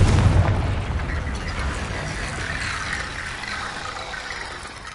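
A Confringo fire spell explodes in the fantasy video game Hogwarts Legacy, a loud booming blast at the start that rolls into a long rumbling, crackling decay fading over several seconds.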